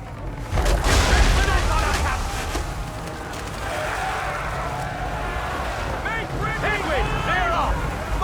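Heavy booming ship cannon fire in an Assassin's Creed III naval battle, a loud deep blast near the start followed by sustained rumble, with shouting voices and wind-like surf noise throughout.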